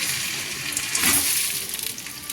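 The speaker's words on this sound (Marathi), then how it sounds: "तेल तापले की त्याच्याला आता वांगे मी टाकून घेते" Eggplant pieces frying in hot oil, a steady close crackling sizzle that swells briefly louder midway, with no talking.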